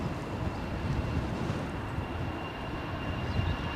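EasyJet airliner rolling for takeoff at Edinburgh airport, picked up from a distance: a steady broadband roar with faint rumble and wind buffeting, holding level throughout with no voices.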